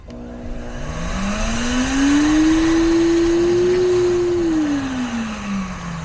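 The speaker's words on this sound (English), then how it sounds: "Now let's test the vacuum real quick." A Giraffe Tools vacuum on a mobile detailing cart whines up to a steady, loud motor hum that rises in pitch, holds, then winds back down near the end, with no talk over it.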